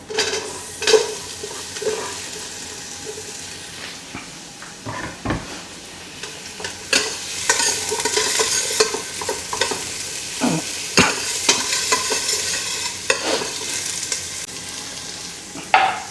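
Onion and garlic sauté in a pan for Filipino pinakbet. A loud, close, steady sizzle carries repeated stirring scrapes and utensil knocks against the pan throughout.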